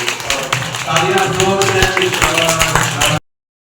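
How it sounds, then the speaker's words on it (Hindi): Audience clapping at a Shiv Jayanti celebration in 2024, a dense burst of applause for about three seconds that cuts off sharply, with voices mixed in. "तालियां"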